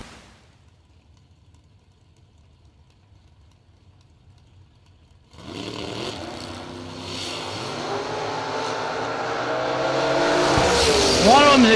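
A Mustang drag racing car at a drag strip launches after several seconds of near silence, its engine roaring loud and rising with pitch sweeps as it charges away, with a crowd or announcer faintly underneath.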